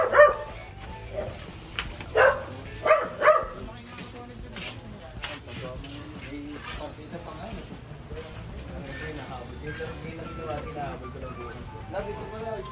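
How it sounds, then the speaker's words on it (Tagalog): Several dogs at a house with a swimming pool bark in short bursts near the start, then quieter yips and whimpers continue under people talking. "Ganda pa ng mga aso."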